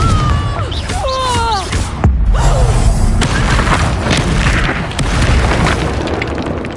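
A booming Confringo spell explosion in a Harry Potter video game, loud and close, erupting after a short vocal sound and trailing into rumbling debris and crackle.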